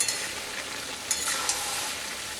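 Spice paste and a little water mixed in a cooking pan, a steady bubbling sizzle with a few light scrapes of a spoon, close and continuous, with no voices.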